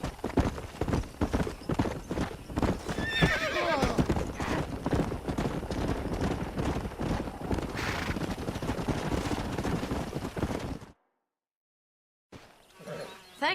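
Horse hooves clip-clop steadily in Red Dead Redemption, a fast rhythmic gallop with game sounds and scattered gunfire-like cracks, then a sudden silence before a short burst of sound.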